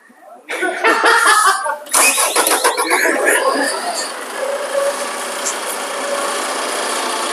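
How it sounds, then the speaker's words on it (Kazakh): A car engine cranks and starts with a loud rattling roar, then settles into a steady idle as the car pulls away, heard close by with a squeal early on. "4-ші көлігіміз кетіп бара жатыр."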